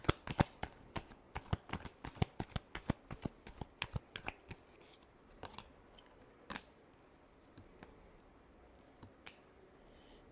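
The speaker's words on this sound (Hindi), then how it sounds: "Last shuffle." Tarot cards are shuffled by hand in a quick series of crisp riffling snaps, close and distinct, with the bursts thinning out and spacing apart toward the end; no talking.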